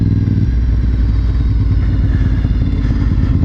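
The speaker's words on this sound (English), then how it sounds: "So I'm out today taking the new Brembo hydraulic clutch master cylinder for a test drive" A Honda motorcycle fitted with a Brembo hydraulic clutch master cylinder rumbles steadily up close on a test ride, its engine droning loud and continuous with a slight rise in revs.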